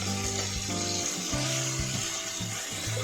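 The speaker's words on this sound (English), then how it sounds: "add chopped tomatoes and cook it for 2 to 3 minutes until they also become soft and mashy" Chopped tomatoes cook with softened onion in a hot pan, a continuous hissing sizzle running under steady background music with low, sustained tones.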